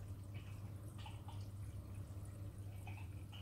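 Water trickles and drips steadily through a homemade carbon reactor, flowing in a constant low wash with scattered droplet plinks and a low hum from a nearby pump.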